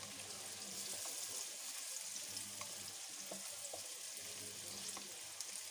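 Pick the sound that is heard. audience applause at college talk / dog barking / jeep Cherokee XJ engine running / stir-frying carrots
stir-frying carrots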